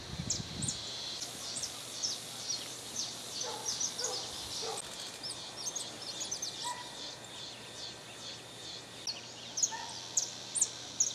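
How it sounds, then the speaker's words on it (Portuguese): Many birds chatter and call continuously outdoors by a fruit-laden mango tree on a rural property in São Pedro, São Paulo state, a dense high-pitched chorus of repeated chirps at moderate distance, with a brief thump at the start. "Olha, barulho dos pássaros."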